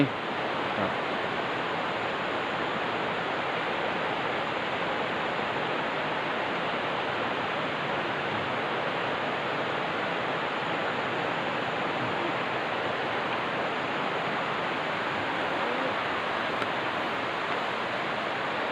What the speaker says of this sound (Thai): งาม เสียง น้ำตก